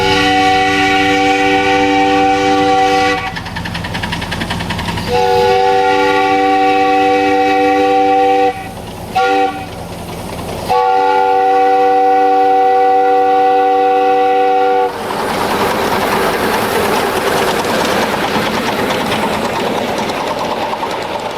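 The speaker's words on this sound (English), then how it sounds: "When you see a W sign, you should sound your horn to indicate your approach." A loud, close miniature train horn sounds at a grade crossing on the Train Mountain layout in a pattern of long, long, short, long blasts, with rumbling rail noise between and after the notes.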